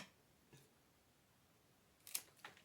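Scissors snip through a houseplant stem during water propagation, making two or three quiet, crisp cuts near the end after a faint earlier click, with no talking over them.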